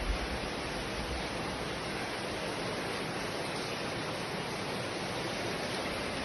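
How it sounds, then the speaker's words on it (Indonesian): Floodwater from the overflowing Talang Jawa river rushes through the town of Lahat, a dense, steady roar of water with no pauses, loud and close. "Banjir nah."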